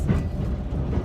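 A noisy passenger train on the Shepparton to Southern Cross line gives a brief burst of loud, continuous rumble and rattle from on board, with no voices.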